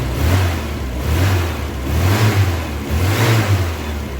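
A Triumph Spitfire classic car engine fitted with electronic ignition, revved in three or four smooth rising and falling blips from a near, steady idle.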